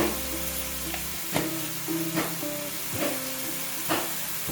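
Spices with turmeric sizzle and fry in a pan for crab curry, a steady close hiss broken by several stirring scrapes.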